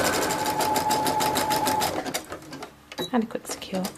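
Domestic sewing machine running a straight stitch up the side seam of a fabric tote bag, a steady fast mechanical whir that stops about halfway through, after which someone speaks close by.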